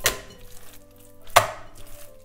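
Two sharp wet slaps of seasoned minced meat being thrown down to tenderize it, spaced about a second apart, against a quiet background.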